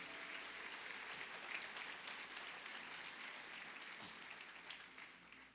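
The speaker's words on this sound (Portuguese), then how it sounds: "Se você pode, libera um melhor aplauso ao nome do Senhor Jesus." Congregational applause in a church service, praising Jesus, a steady, fairly faint clapping wash that holds throughout.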